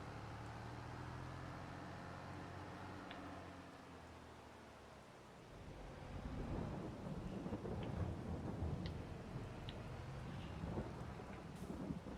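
Rain and thunder in the farming video game Farming Simulator 22, with steady rainfall and rolling thunder that grows heavier and louder partway through, a constant wet wash with low rumbles and no talk.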